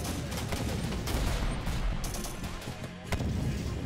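Dense, continuous gunfire and explosions from a heavy machine gun in the war strategy game Syrian Warfare, loud bursts overlapping with booms throughout, with a sharp blast near the end.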